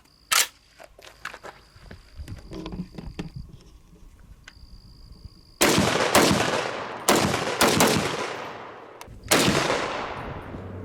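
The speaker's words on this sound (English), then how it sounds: "even at 5 rounds, we had a lot of fun shooting this rifle" Several loud, sharp rifle reports from a C-308 battle rifle chambered in .308, fired outdoors, each crack followed by a long decaying echo, spaced a second or two apart after a stretch of quieter background.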